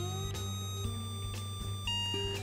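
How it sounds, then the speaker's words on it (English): An Apex aquarium controller alarm for a saltwater tank, triggered by a sump overflow, sounds indoors as a steady electronic tone that repeats and shifts pitch, cut by brief sharp pulses, loud and close, with no voices. "it sounds an alarm inside your house to alert you if you are home"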